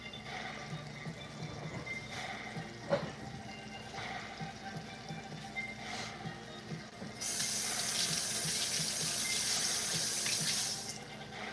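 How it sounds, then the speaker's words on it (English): Hands rinsed under a running kitchen tap, with soft handling noises first and then a steady rush of water hitting the sink for several seconds, close and alone. "I like to give my hands a rinse."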